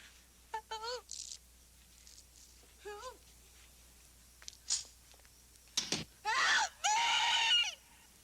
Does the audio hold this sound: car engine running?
no